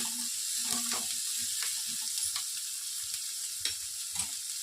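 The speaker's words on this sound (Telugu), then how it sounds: "వీటిని ఒక 2 మినిట్స్ బాగా ఫ్రై చేసుకోవాలి" Onions and amaranth leaves fry in a pan with a continuous soft sizzle and occasional scraping and knocking of a spatula against the pan, heard close and without speech.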